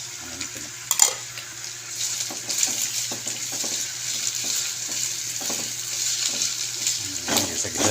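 Hotdog and carrots sautéing in a pan, with a continuous bright hiss of frying and frequent light taps and scrapes of a stirring utensil, close and fairly loud, no talking.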